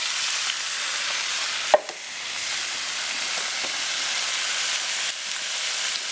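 Backstrap meat sizzles in a hot pan, a close, steady frying hiss with soft crackles and one sharp clatter early on, continuing alone with no voices.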